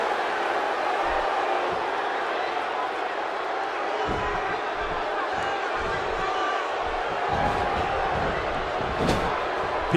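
A wrestling arena crowd roars steadily through a Rollins vs Reigns match, a dense, continuous wash of cheering with scattered thuds and slams from the ring, while a commentator's voice runs over it.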